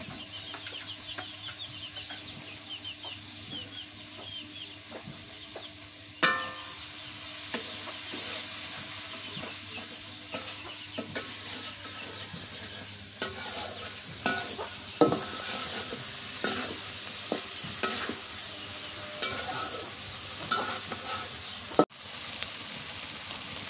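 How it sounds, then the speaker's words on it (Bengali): Tomato sautéing in a pan for a boal fish curry, a continuous soft sizzle with sporadic clinks and scrapes of a spoon, growing busier toward the end; a faint rooster clucks in the background. "টমেটোটা কষান করে নেই।"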